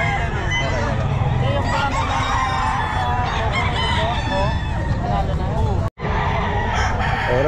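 Roosters at the Bocaue pet market crow repeatedly amid a dense din of fowl, overlapping calls and clucks filling the space, with people talking in the background and a brief dropout near the end.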